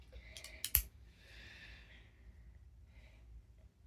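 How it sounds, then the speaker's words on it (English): A lock being picked gives a sharp close click and a small pop, followed by faint rustling and a light breathy hiss in a quiet room. "You can hear a click, and it pops."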